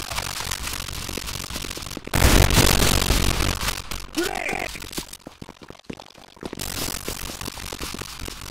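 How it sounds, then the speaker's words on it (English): Gunfire in the Roblox Counter Blox shooter game rattles in loud rapid bursts, strongest in a sustained volley midway, with brief gaps and a voice calling out between shots. "Opening fire!"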